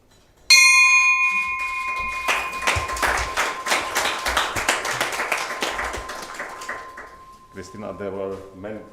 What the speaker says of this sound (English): we would like to invite you to ring the bell for this special day